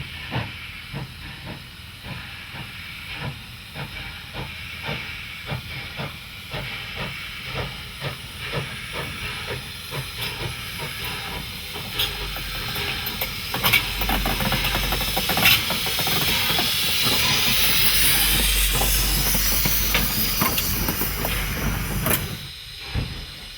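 Porter steam locomotive, formerly a quarry engine, hissing steadily with rhythmic chuffing as it runs, the hiss swelling louder toward the end.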